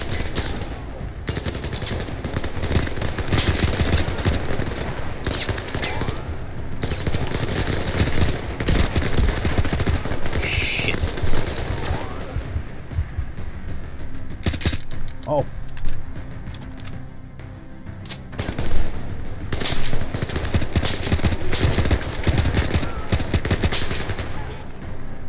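Rapid bursts of gunfire in the VR shooter Zero Caliber, played with bHaptics, crackle almost continuously at close range with dense repeated shots, while a player talks over the shooting.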